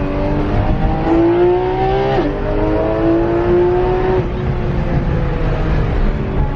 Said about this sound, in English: Making all the Porsche noises.